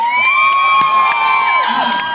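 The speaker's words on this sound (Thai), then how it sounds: "ขอเสียงปรบมือดังๆด้วยครั" A lively crowd cheering and whooping loudly, with high shouts and whistles layered over a steady roar, continuous throughout.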